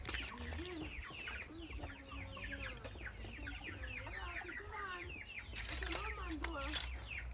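Chickens cluck and squawk repeatedly in a country yard before butchering, close and lively, with a denser burst of agitated calls and wing noise near the end.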